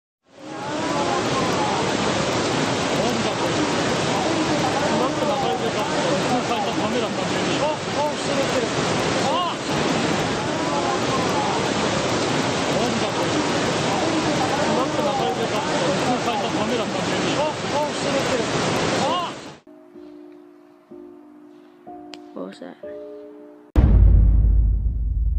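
Tsunami waves surge in a loud, unbroken roar of rushing water for about twenty seconds, then cut off abruptly to quieter scattered tones and a short final thump.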